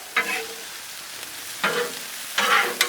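Steak, shrimp and mushrooms stirred on a Blackstone griddle, three separate bursts of loud sizzling as the spatula moves the food, with quieter gaps in between.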